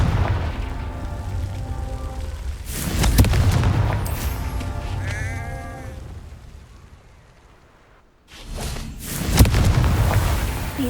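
A Confringo blasting spell in Hogwarts Legacy, a couple of booming fiery explosions with rumbling tails, loud and close, separated by a quieter stretch.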